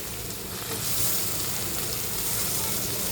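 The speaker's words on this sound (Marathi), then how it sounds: "आता इथे टोमॅटो घालूया" Tomatoes hitting a hot frying pan set off a steady, close, broadband sizzle of frying that holds evenly for about three seconds, with no talk over it.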